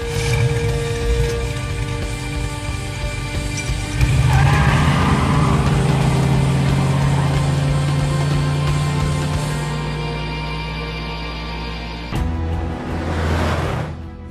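Car engine revving as it drives off and accelerates in a dramatic scene, a loud, rising roar that sustains, then drops off with a shift before building again, no talk.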